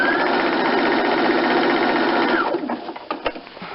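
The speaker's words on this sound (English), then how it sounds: "I'm going to center that cord in the middle of the foot and then just sew that" A sewing machine runs loudly and steadily for about two and a half seconds, stitching cord onto the folded mesh of a hood, then slows and stops, followed by a few soft handling clicks.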